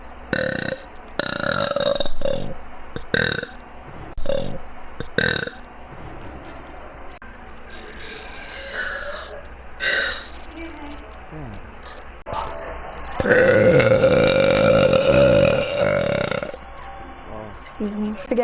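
A woman lets out a string of loud, close burps, several short and one long drawn-out belch, with her talking and laughing in between.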